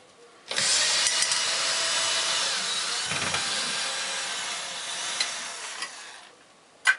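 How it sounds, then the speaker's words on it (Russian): A cordless screwdriver drives screws into a wooden ceiling in a cellar, giving a close, sustained whirring grind for several seconds with a brief dip midway. "Шуруповерт."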